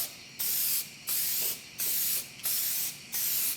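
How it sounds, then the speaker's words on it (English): Light coats of spray paint hiss from an aerosol can onto the inside of a Kyosho SC-R RC car body, in five short, evenly spaced bursts with brief pauses between them. "go ahead and shake up your paint and start painting inside, and just some light coats"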